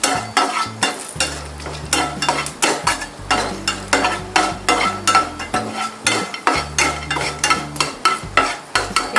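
Whole spices of cinnamon, cardamom, clove, dried chilli and bay leaf fry in oil in a kadai, crackling under a rhythmic series of loud scraping stirs, with a low hum running beneath and no voice.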